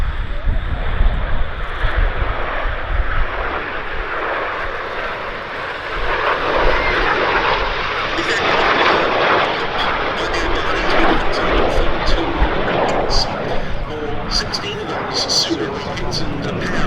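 A military ground-attack aircraft at the Duxford summer air show sweeps in from the left for a topside pass, its engine roar loud and sustained, swelling and fading as it crosses, with a commentator talking over it.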